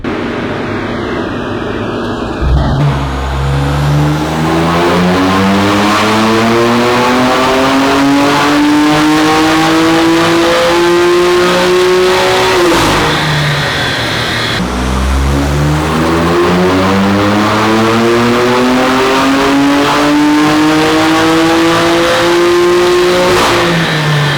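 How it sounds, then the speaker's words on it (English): A BMW F80 sports car engine revs hard on a dyno in two long pulls, pitch climbing steadily to a screaming peak before cutting off, loud and close throughout. "I'm gonna give it one last dyno hit"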